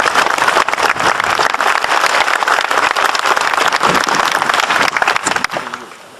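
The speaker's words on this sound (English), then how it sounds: "let's give everybody here a round of applause" A room full of people applauds loudly and steadily at an event at the San Leandro Zero Net Energy Center, the clapping dense and sustained before tapering off at the end.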